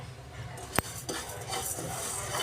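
Cumin, coriander seeds and fenugreek dry-roasting in a pan over a low flame, with soft scraping stirs and one sharp clink of a metal spoon against the pan.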